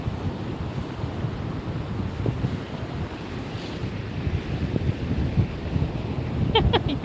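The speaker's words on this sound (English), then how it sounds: "You're just listening to the ocean and me blabber on." Ocean waves wash steadily onto a beach at dusk, a continuous broad surf roar mixed with gusting wind buffeting the microphone, swelling slightly louder toward the end.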